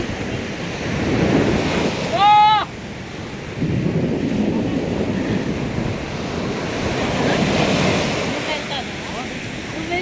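Sea waves wash in at the old harbour in Pondicherry, a steady surging roar with wind buffeting the microphone; a brief whistle-like tone cuts through near the start.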